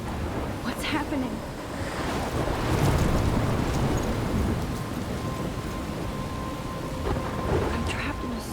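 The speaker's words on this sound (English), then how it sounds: "I'm trapped in a storm?" Rumbling thunder rolls over steady heavy rainfall in a stormy scene from the Life Is Strange video game, the downpour constant throughout with thunder swelling near the middle, and a voice speaks briefly over the storm.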